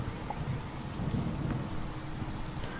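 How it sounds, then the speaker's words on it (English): Steady rain falls in a video game world, a soft, continuous wash with a low rumbling undertone, fairly quiet and unbroken throughout. "it's just started to rain."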